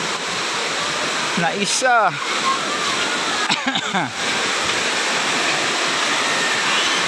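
A waterfall at Twin Falls in Kalayaan, Laguna gives off a constant loud rush of falling water. Two short bursts of speech cut in over it, along with a few squeaky, rising cries.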